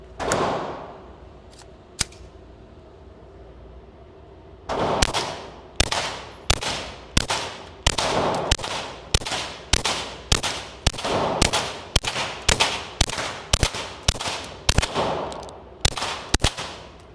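A suppressed Glock 44 .22 pistol firing at a range with a Huxwrx 22 Ti titanium suppressor: a couple of isolated shots, then a fast, steady string of sharp, close cracks with brief pauses.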